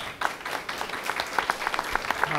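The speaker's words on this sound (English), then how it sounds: "Give a round of applause" A small crowd at a public oversight hearing on Sandy recovery in Red Hook claps briefly, scattered hand claps in a room, moderately close and short-lived.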